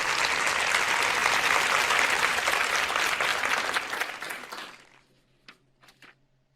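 A large congregation at a Portuguese-language sermon breaks into loud, sustained applause that holds for about four seconds, then thins quickly to a few scattered claps and near silence.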